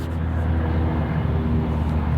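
Airplane passing high over a park in Nashville, a steady low rumbling drone filling the short stretch at moderate, distant-sounding level with no talk.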